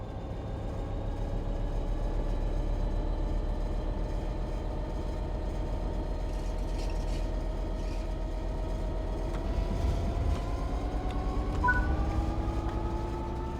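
Low rumbling train engine in Train Sim World 3 gradually building as throttle is applied and it pulls away, with rising tonal whine and faint mechanical clunks, steady and continuous.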